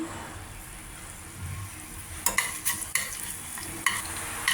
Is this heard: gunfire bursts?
no